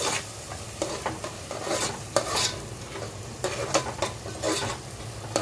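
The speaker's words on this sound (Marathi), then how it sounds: "मस्त मिक्स करून घेऊया" Veg biryani ingredients are stirred and mixed in a pot, with repeated scraping strokes of a spoon over a low sizzle, close by and with no voices.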